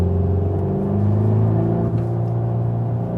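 A VW T-Roc R with its engine droning steadily and loud under hard driving, a continuous close rumble and whir with slight shifts in pitch and no voices.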